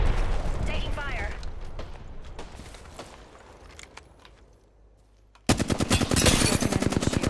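Rapid automatic gunfire from enemies in a shooter video game crackles loudly in a dense burst after a stretch of quieter game noise and talk.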